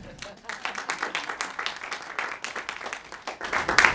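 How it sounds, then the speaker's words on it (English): A room of listeners at an impact investing event claps to welcome a speaker: moderately loud, slightly uneven applause with distinct individual claps, swelling toward the end. "please provide a round of applause for her."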